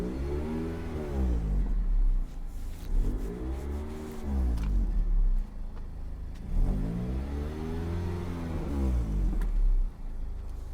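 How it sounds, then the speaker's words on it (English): Dodge Shadow engine with an exhaust leak, idling and revving in repeated swelling cycles, a rough mid-pitched roar with a raspy edge, close and fairly quiet, no voices. "There's an exhaust leak somewhere."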